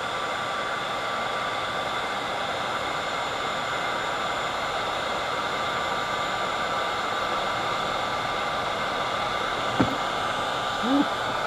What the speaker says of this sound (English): Now I'm going to throw the heat gun to it.